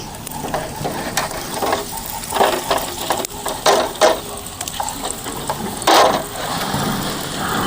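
Corn chapati cooking on a hot griddle stone dusted with flour, giving a steady close sizzle with scraping and patting sounds that swell in brief louder bursts, no talking.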